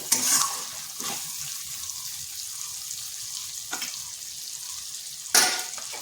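Spices sizzle and fry in oil in a pan as they are cooked down for a chicken dish, a steady close hiss broken by a few sharp stirring scrapes near the start, middle and end.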